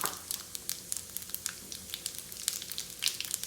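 Cumin seeds (jeera) crackle and sizzle in hot oil with mustard seeds, giving sharp, irregular pops over a steady frying hiss, close and fairly quiet.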